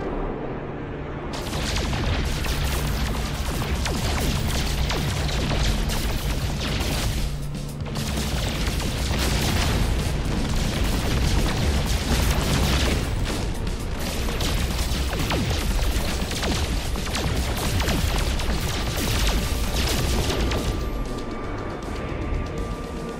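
Spaceships blowing up as they are shot down in the No Man's Sky space game: a dense, continuous barrage of loud booming blasts and crashes rolls on for over twenty seconds with no pauses.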